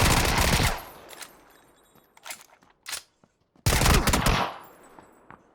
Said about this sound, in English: I shouldn't have opened fire there.